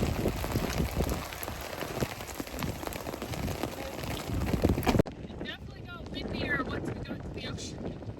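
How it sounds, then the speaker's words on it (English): Heavy rain pounding down on the Oregon coast during a storm, a loud, constant roar of drops with wind buffeting the microphone, then a softer, more sheltered stretch where voices talk. "we've never been on the beach when there's been this much rain"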